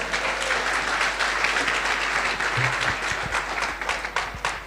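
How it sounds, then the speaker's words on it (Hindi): A large audience at a Hindi-language sales seminar applauds loudly and steadily for several seconds, a dense continuous wash of clapping with no speech over it. "जोरदार ताली बजाओ"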